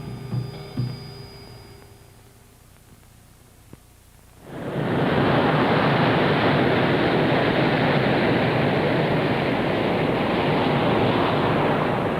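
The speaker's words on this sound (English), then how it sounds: "The Japan Sea in winter." Rough winter waves of the Japan Sea surge in after a quiet lead-in, becoming a loud, continuous roar of surf and wind that fills the rest of the stretch without letting up.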